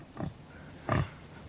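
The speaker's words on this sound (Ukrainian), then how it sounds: "доглядав за вагітними свинями" Pregnant pigs grunt twice, with short, low, rough grunts spaced under a second apart against a quiet background, and no one speaks.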